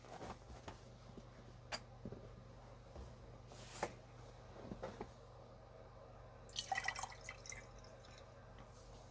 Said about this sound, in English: let's put some water in them